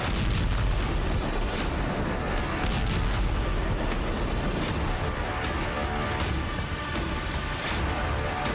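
Artillery fire during bombing, with repeated sharp booms and bursts at irregular intervals over a dense, loud continuous rumble.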